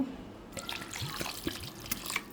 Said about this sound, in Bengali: এখন আমি এখানে একটু পানি দিব